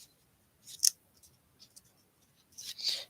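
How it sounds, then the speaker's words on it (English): Scissors snipping through a paper tag, a few crisp close cuts with a sharp snip near the start and a longer rasping cut at the end, quiet and alone. "Just gonna go off camera real quick and cut"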